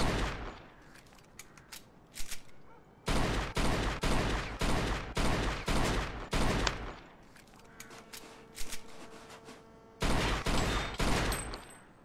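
Gunfire in the video game Mafia 2 aimed at car tyres, a rapid run of loud close shots in bursts separated by short pauses, with quieter ambient sound between volleys.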